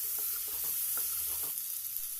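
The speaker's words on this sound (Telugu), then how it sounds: "ఇందులో మనం ఆల్రెడీ కట్ చేసి పెట్టుకున్న ఆలుగడ్డ ముక్కలను వేసుకొని బాగా కలుపుకోవాలి." Cut potato pieces stirred and fried in a pan on low flame: a steady sizzle with a quick run of soft spatula scrapes and knocks in the first half, then a calmer hiss.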